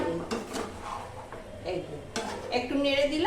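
A spoon scrapes and clinks in a pan as taro and prawn curry is stirred, a few scattered stirring strokes close by, with some speech-like sound mixed in.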